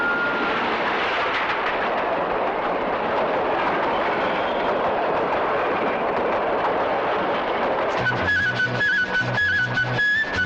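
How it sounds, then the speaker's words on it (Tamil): A train passes close by in a loud, continuous rumbling roar that holds for about eight seconds before music comes in over it. "ரயில் வருது வேடிக்கை பார்த்துட்டு போ."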